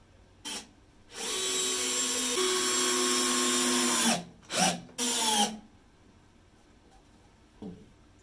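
A Bosch Pro GSR 12V-15 cordless drill driver drives screws into wood, with a steady whining motor run of about three seconds, then two shorter bursts and a faint final blip, close and alone without talk.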